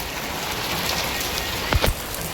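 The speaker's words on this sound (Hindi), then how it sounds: "बारिश हो रही है" Rain pours steadily onto a tin roof at night, a dense, even patter close overhead, with a couple of brief heavier knocks or drips near the end and no talking.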